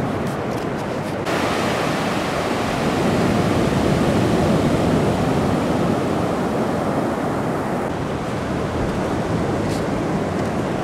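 Rough sea waves breaking on a quiet beach in Langkawi, Malaysia, heard as a steady, loud roar of surf and wash with no voices and a brief wind buffet near the start.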